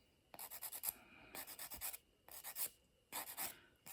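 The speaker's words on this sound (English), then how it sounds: "You're going to watch and not start filing it so much that you're filing all your product off" A nail file rasps across dip powder nails in four quick bursts of short, rhythmic back-and-forth strokes separated by pauses, close and crisp in an otherwise quiet room.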